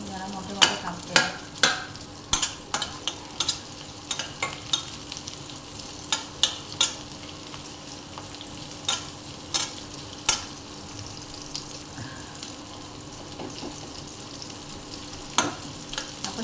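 Large onion slices sauté in a pan for a Marathi urad dal amti, with a low continuous sizzle broken by repeated sharp spatula clicks and scrapes at an irregular pace.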